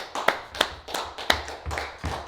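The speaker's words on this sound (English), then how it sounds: "Round of applause for you both." Scattered hand claps from a small live-broadcast audience in a woodworking show setting, with about six distinct sharp claps spaced irregularly across a couple of seconds, fairly close and clear with no talking.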